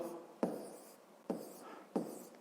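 A pen writes out a fifth-grade math solution with three quiet strokes, each a short scratch that fades away, in a quiet room.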